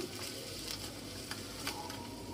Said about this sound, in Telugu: ఉల్లిపాయ ముక్కలు కూడా వేసుకొని కొంతసేపు వేయించుకోవాలి